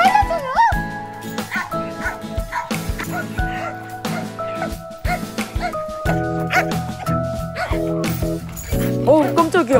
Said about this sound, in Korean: 시골에 왔으니 시골 멍멍이들과의 만남도 필수겠죠?